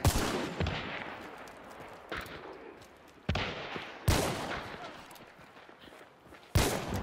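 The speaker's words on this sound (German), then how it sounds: "Von rechts schießt schon einer." Gunfire in the Hunt: Showdown game, a series of sharp, separate shots spaced a second or more apart, each with a long echoing decay, some near and loud, with faint voices in between.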